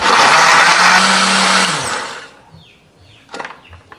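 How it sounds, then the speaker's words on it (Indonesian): A blender grinding spices with a little water whirs loudly and steadily for about two seconds, then winds down, followed by a few light clinks. "Tambahkan sedikit air supaya lebih gampang untuk menghaluskannya ya"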